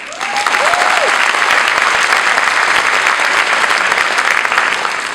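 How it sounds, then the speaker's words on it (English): A crowd at a high school band's spring concert claps for the graduating seniors, a loud, continuous, close burst of applause filling the hall, with a couple of brief high tones near the start. "Please join the band in applauding for our seniors."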